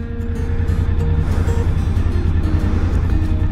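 Suzuki V-Strom DL1000 motorcycle on a practice ride, its engine giving a loud, steady low drone with constant wind rush throughout, no talk.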